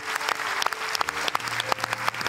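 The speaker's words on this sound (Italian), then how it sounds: "E allora un grande applauso." A studio audience claps for a guest on an Italian TV talk show: a steady, dense round of many hands, loud and even throughout.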